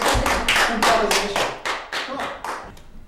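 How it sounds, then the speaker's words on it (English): A small group claps for a juggler, about nine or ten slow, separate claps or slaps, close and fairly loud, then thinning out. "All right, have a big round of applause for this guy."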